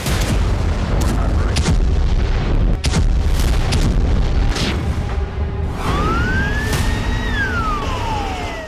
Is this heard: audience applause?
no